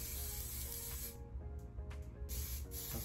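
A spray paint can hisses in bursts, a steady spray broken by brief pauses, close and fairly loud.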